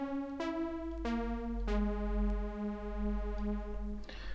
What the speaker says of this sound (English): Now let's start with a default preset, as I just loaded Continua, which sounds like this.